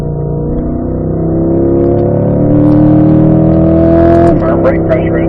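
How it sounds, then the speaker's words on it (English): A car's engine drones loud and close as the driver rolls back onto the throttle on a driving course, holding a steady, rising hum with a brief shift in tone near the end. "I'm going to start rolling back into that throttle here, Robert."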